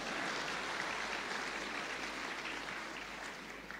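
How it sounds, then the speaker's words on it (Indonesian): Audience applause during a lighthearted roast between a bishop and a priest, a dense, steady patter of clapping that holds evenly throughout and eases slightly toward the end, with no talk over it. "tepuk tangan, betul tepuk tangan."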